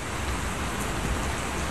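Steady rain falling during a long-distance outdoor ride, a dense, even hiss of drops with no talk, constant and moderately loud throughout.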